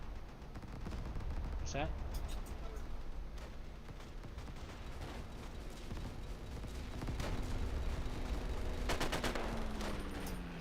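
Gunshots fired in a repeated, rapid series of sharp cracks over a loud, constant rumbling background, with scattered bursts and a short spoken question partway through.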